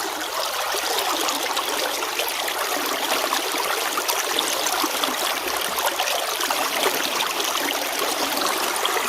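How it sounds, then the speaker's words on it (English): A West Virginia creek flowing steadily, with dense, continuous close-up rushing and babbling water that stays even and loud throughout, with no talking. "Sitting there by the creek, listening to the water flow."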